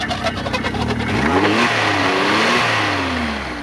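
A car engine revs during a drive belt check, pitch rising and falling in sweeping mid-range surges over a steady rumble, loud and close, with a faint rhythmic ticking early on.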